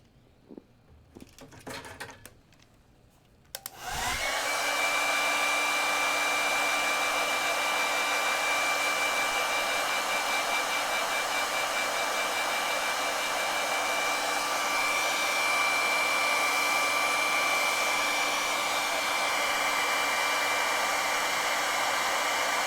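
A handheld hair dryer blasts onto a sheet of watercolor paint, switching on after a few seconds of quiet handling clatter and then roaring steadily and close with a constant whine for the rest.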